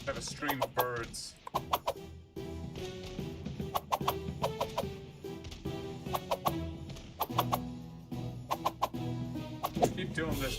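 A rapid stream of clucking birds in the battle game Totally Accurate Battle Simulator, repeated chicken-like clucks and squawks in quick bursts throughout, loud and busy over game sounds.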